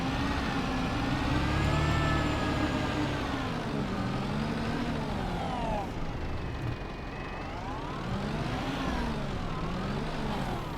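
Farming Simulator 22 tractor engine straining under a heavy weight, a loud continuous drone whose pitch rises and falls as it revs and turns.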